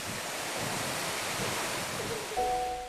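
Water pouring down from above on a route through the Bolivian Andes: a loud, steady, broadband rushing roar that continues unbroken, with a faint tone entering near the end.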